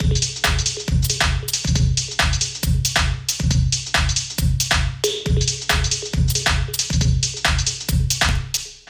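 UK garage and future garage drum group beat in Ableton Live, a dense, shuffling loop of booming kicks, snappy snares and crackly hats. It repeats in a swung rhythm, loud and close, with no voices.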